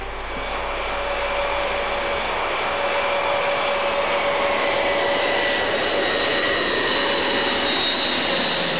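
Engines of the Antonov An-225 Mriya, a huge six-engine cargo aircraft, roar loudly and steadily with a whining tonal drone that grows brighter and stronger across the stretch, no voices present.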